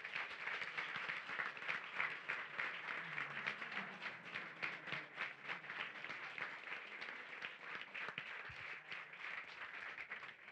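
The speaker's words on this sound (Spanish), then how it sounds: "Yo quería pedir un aplauso especial" An audience at a panel on sacred plants and indigenous perspectives applauds, with dense, steady clapping from many hands filling the room at a moderate, slightly distant level.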